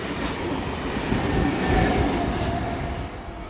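A V-set passenger train, set V33, runs through platform 2 of a suburban station without stopping: a loud, steady rumble of wheels and carriages, close by and continuous, with a faint squeal of wheels near the end.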